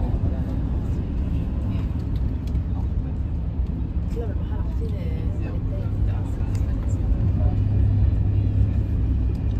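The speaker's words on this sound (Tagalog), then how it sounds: "We're in the train going to Switzerland." Steady low rumble inside a moving train travelling from Paris toward Geneva, Switzerland, continuous and fairly loud throughout with no breaks, while people talk quietly over the constant drone.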